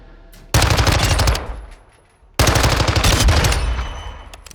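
Automatic gunfire in the Call of Duty practice range, heard as two loud, rapid bursts of shots, each about one to two seconds long, separated by a short pause with the sound decaying.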